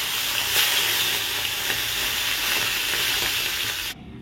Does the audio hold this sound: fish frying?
yes